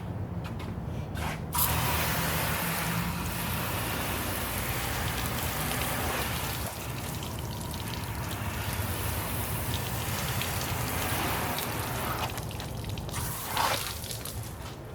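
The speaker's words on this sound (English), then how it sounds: "And then you're going to rinse that off." Water spraying onto a car headlight during a rinse after cleaning, a steady close hiss of splashing spray that continues for about fifteen seconds with brief pauses.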